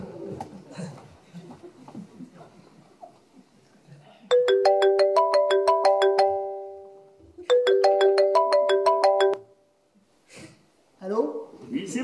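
A phone plays a melodic electronic ringtone in two bursts of about three and two seconds, separated by a short pause, with people talking before and after the ringing.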